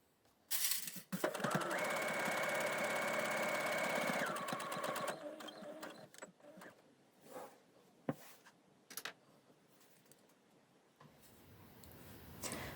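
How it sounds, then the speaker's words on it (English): A sewing machine stitches a patch pocket onto a garment, running steadily for a few seconds with a rapid mechanical rattle, then stopping, followed by quieter handling clicks and fabric rustles nearby. "So now you can pin your pocket in place and sew it to your garment."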